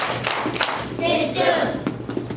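Children clap together during a children's church worship service, a dense burst of hand claps that runs through the whole moment at steady loudness, with a voice briefly mixed in.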